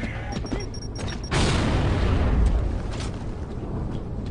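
A frag grenade goes off in the shooter Gears of War 3 during a tournament match, one loud rumbling blast after a brief lead-in, followed by a long roaring, crackling tail that stays strong for several seconds.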